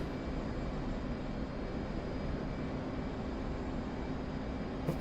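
Steady broadband engine roar of a jet in the DCS flight simulator game, droning continuously at an even level during flight with gear and flaps up, with no talking over it.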